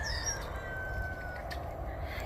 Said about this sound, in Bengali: মুরগির ডাক মুরগির ডাক শোনা গেল